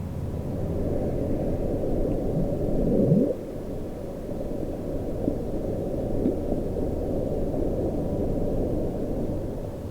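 The Bloop, a mysterious underwater sound captured by ocean hydrophones and attributed to ice quakes and large icebergs: a steady, dense low rumble with a few faint rising sweeps, loudest near the start, with no voices.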